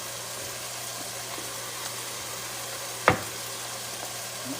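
Soft, steady frying sizzle from mushrooms in a hot pan, with one brief clatter partway through; no talking.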